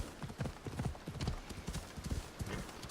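Hooves clip-clop in a quick galloping rhythm from a horse in Assassin's Creed Odyssey, the beats fairly quiet and even, with a brief whinny-like sound mixed in.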